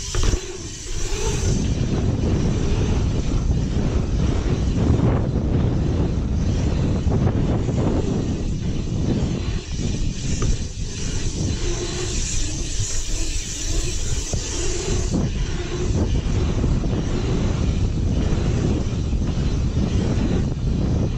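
Heavy, continuous wind buffeting roars across a chest-mounted GoPro microphone while riding a lap against a headwind, low rumbling gusts filling the whole stretch with no talk.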